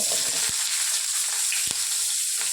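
Cumin seeds and green chilies fry in hot oil with a dense, steady sizzle, punctuated by a few sharp pops and spatters, close up and without any voices.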